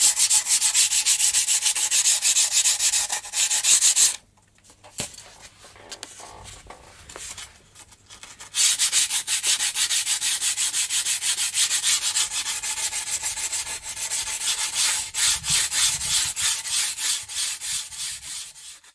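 Sandpaper rubbed back and forth over the surface of a model glider wing being prepared for bonding, steady close scratchy strokes with a brief pause midway.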